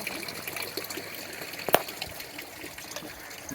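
Spring water wells up and flows into a pond at Palmetto State Park, giving a soft, continuous trickle and burble close by, with one brief sharp splash partway through.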